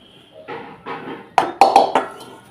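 A metal bowl clatters as hot mango chutney is poured out of it after the stove is turned off. A few soft scrapes come first, then several sharp, ringing clanks close by.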